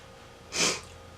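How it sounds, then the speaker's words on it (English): A single short, airy sniff close to the microphone, a quick breathy rush of air with quiet room tone around it. "I'm sorry, I keep sniffing."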